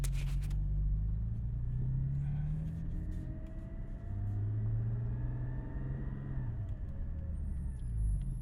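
A 2021 Porsche GT4 engine rumbles low and steady from inside the cabin while driving, with gear-driven pitch rising and falling through gentle acceleration and a continuous road roar.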